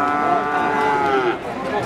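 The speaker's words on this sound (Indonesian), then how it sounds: "Ini sapi-sapi bakalan." Cattle moo at a busy cattle market, several drawn-out lowing calls overlapping one another, fairly close and loud over a constant crowd murmur.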